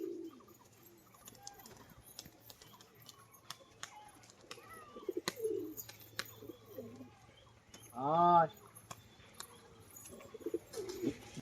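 A male fancy pigeon gives a brief, soft cooing call amid quiet background noise and scattered faint clicks and rustles.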